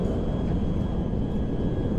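The engines of a C-17A Globemaster transport plane roar in GTA 5, a loud, even, unbroken drone heard alone without speech.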